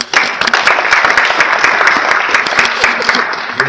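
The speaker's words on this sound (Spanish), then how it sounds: "recibamos un fuerte aplauso" Audience applause at an evening academic event in Peru, dense and steady clapping filling the room from start to finish with no talk over it.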